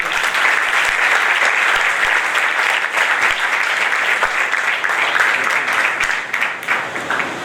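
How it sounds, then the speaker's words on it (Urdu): Loud applause fills a church hall at the first-anniversary service of a Pakistan Assemblies of God congregation, with close, vigorous clapping and individual sharp claps standing out from the roar. "ان ساروں کے لیے زوردار تالیاں."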